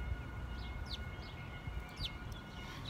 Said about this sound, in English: small bird and big bird is coming behind me.